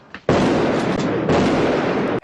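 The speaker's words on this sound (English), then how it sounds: "So it was a small exchange of gunfire that lasted about a minute." Gunfire exchange from the 1971 film The French Connection, a loud, dense wash of blasts and crackle sustained for about two seconds with a brief dip midway, no voices over it.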